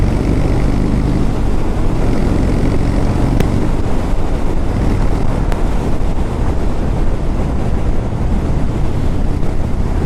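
A 2014 Harley-Davidson Dyna Low Rider is ridden outdoors in December, with loud, constant wind roar across the microphone that buries the engine for the whole stretch.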